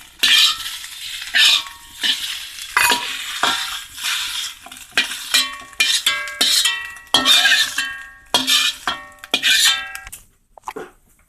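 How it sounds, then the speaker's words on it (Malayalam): An egg omelette fries in a pan, a soft sizzle broken by repeated metallic scrapes and clinks of a spatula against the pan in irregular bursts, close up with no talking. "ഇനി ഇത് പൊരിച്ചെടുക്കണം"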